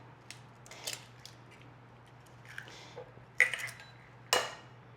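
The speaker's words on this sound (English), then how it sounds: "So I'm going to add 2 large eggs to this bowl." Two large eggs cracked into a mixing bowl for a bourbon pumpkin pie filling: a few sharp shell taps and clinks against the bowl, then a soft squishy drop, close and fairly faint over a low steady hum.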